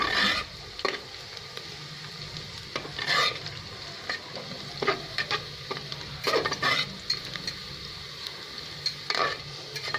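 Sliced onions frying for tahari sizzle steadily in a pan while a spoon scrapes and stirs them in intermittent bursts, close and fairly loud, with no talking.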